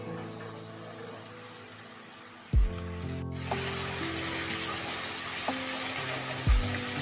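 Washed, thinly cut bottle gourd is tipped into a hot pan for a lau ghonto with rohu fish head, bringing a sudden thump followed by a steady sizzling hiss that continues to the end.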